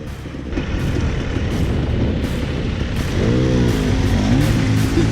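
Enduro dirt bikes on a rough training ground ride off at full throttle, a loud, steady engine roar filling the whole stretch, with a rising whining rev note joining in toward the end.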